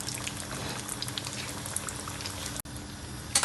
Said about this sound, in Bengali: আমি মোগলাইটা তেলে ছাড়লাম।